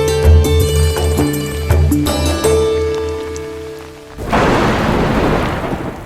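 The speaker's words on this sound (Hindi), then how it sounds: "बारिश की रिमझिम फुहारों को ही लीजिए" A rain shower with thunder: a deep rolling rumble of thunder with steady rain falling on surfaces, then a sudden loud burst of heavy rain washes in, close and full.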